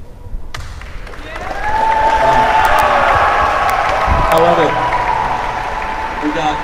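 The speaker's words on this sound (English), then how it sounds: "hey, you guys can clap when they say you're going to win" Crowd at Martin County High School breaks into clapping and cheering, swelling from sparse claps to a loud, sustained roar with whoops, while voices talk over it.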